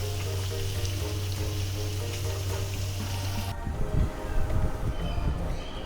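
Alu vadi, colocasia leaf rolls, bubble as they fry in oil, a continuous frothy hiss under a low hum that cuts off midway, after which the bubbling grows louder and more uneven.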